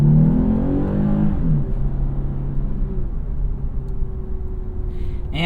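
A 2021 Lexus IS 350 F-Sport engine winds up toward high RPM with a rising, harmonic-rich roar, then eases off to a steady lower drone heard from inside the cabin, with no talking.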